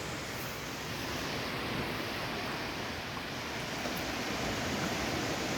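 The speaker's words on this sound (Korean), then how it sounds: "파도도 아주 예쁘게 치고 있고요" Ocean surf rushes continuously in a broad, steady wash of noise, with waves breaking at a distance and no voices, at Daecheon Beach on Korea's west coast at sunset.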